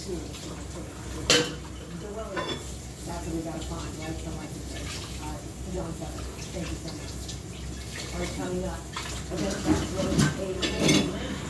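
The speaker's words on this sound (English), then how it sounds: "Get my dishes washed." Dishes being washed by hand in a home kitchen, with plates, pots and cutlery clinking and knocking amid running water, steady and close.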